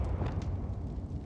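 A Bombarda spell explodes in the video game Hogwarts Legacy as one brief, deep, rumbling blast, heavy in the low end and alone.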